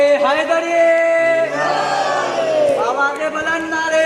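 A crowd chants the Nara-e-Haidari religious slogan in unison at a sermon gathering, a loud collective shout of rising and falling voices that fills the whole stretch.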